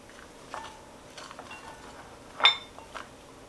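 Pasta and bean salad gets tossed in a bowl with a utensil, producing a few sparse, light clinks and taps, one sharper knock near the end, in a quiet room with no talk.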